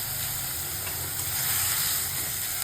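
Shrimp with mashed bottle gourd leaves frying in a pan give a steady, even sizzle and hiss, close by and unbroken, with no talk over it.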